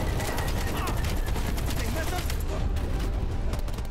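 AK rifle gunfire in a Vietnam War video game, a dense, continuous burst of shots layered with heavy explosive rumble, loud and unbroken for several seconds.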